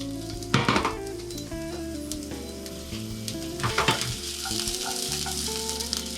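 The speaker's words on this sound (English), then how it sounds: "cook the onions until they are translucent or they're changing the color" Chopped onions, a quarter cup, sizzle and fry in a hot saucepan for a vegan stuffed-mushroom dish, a steady close crackle with a few sharper bursts of stirring, no one talking.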